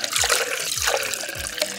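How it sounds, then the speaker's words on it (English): Water poured into a container, a bright close splashing trickle with a few quick gulping bursts over about two seconds. "Welcome to 15 minutes pouring water."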